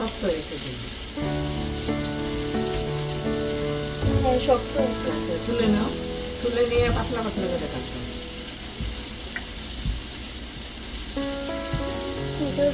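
Vegetables fry in a pan with turmeric and salt, a steady close sizzle with occasional stirring clatter, while someone talks over it.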